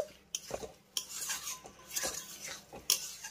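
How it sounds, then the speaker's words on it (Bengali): Soybean chunks stirred with masala in a pan, a spoon scraping and clattering against the metal in an irregular rhythm of sharp clinks and scrapes, close and clear with no talk. "এবার আমি এই মশলার সঙ্গেও সয়াবিনটাকে আরো একবার ভালো করে নেড়েচেড়ে মিশিয়ে নেব।"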